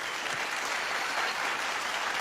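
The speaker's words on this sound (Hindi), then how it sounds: "मैं चाहता हूं कि जगजीत जी के लिए जोरदार तालियां हो जाएं एक बार।" A studio audience at a Kapil Sharma comedy show claps steadily and loudly in a dense, continuous wash of applause, with no voices over it.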